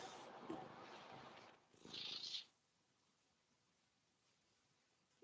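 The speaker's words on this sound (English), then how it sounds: "Maybe you guys will be able to hear him purring." A cat named Tiny purrs faintly and close up in a garage, a soft low rumble for a second or so, followed by a brief brighter rustle and then near silence.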